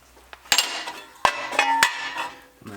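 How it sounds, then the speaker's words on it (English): Hammer blows strike metal turbo lawn mower kit parts in a workshop, four or five sharp clanking hits at uneven intervals with ringing metallic tails, close and alone. "hammer, hammer."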